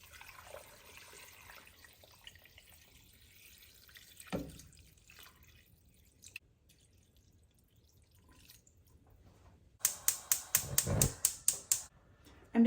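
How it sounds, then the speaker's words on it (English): Cold water pours into a soup pot for chicken noodle soup, heard as a loud, close burst of splashing and clattering near the end after a long, mostly quiet stretch with faint handling noises. "And then a bunch of cold water."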